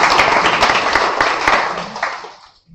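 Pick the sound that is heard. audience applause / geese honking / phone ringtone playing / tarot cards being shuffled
audience applause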